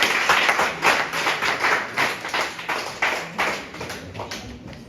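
Audience applause at a school science and mathematics quiz final, a steady run of scattered hand claps rising and falling in waves for several seconds, close and fairly loud with no talk.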